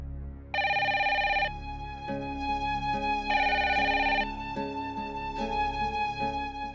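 A telephone rings in repeated electronic bursts, a bright trilling tone starting and stopping in a steady pattern over a low hum.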